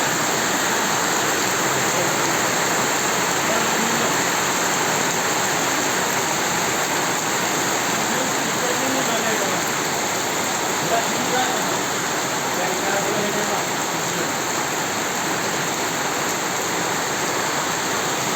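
Heavy rain pouring down under a gloomy sky, a loud dense unbroken roar of falling water that fills the whole scene without letup.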